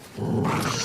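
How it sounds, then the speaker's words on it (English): A dog growls in The Last of Us Part 2, a short, close, low rumbling snarl lasting under a second. "Goddamn dog."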